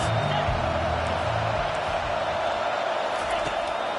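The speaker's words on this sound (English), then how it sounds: "Big third down as the crowd gets behind this defense." Stadium crowd noise from the College Football 25 video game forms a steady, dense roar, loud and unbroken, with a voice speaking briefly over the start.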